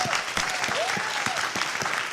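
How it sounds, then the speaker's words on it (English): Steady crowd applause fills a room at a 2018 cultured meat symposium, continuous overlapping claps with a faint voice rising briefly through the noise. "So please give a big round of applause"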